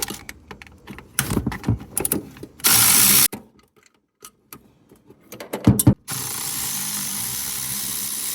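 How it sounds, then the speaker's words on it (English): Ratchet wrench backing out 9/16 bolts on a 1965 Ford Mustang 260 fuel pump, with bursts of quick clicking and clattering, a loud rushing stretch, pauses, and then a steady hiss. "now to remove the two bolts"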